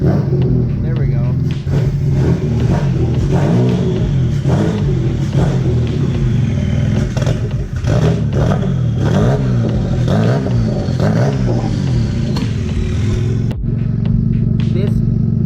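A car's front engine runs and revs repeatedly, rising and falling close up in loud, rapid bursts over a rough idle, with a voice speaking now and then.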